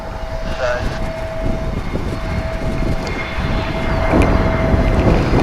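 A heavy airliner loaded with passengers and fuel for a long trans-Pacific flight roars down the runway on takeoff at DFW Airport, a loud, steady broadband engine rumble that swells toward the end.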